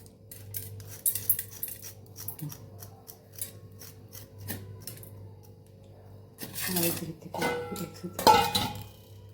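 A knife slices red chillies for pickle on a board, giving irregular crisp clicks and taps over a low hum, with a denser burst of rustling and cutting near the end.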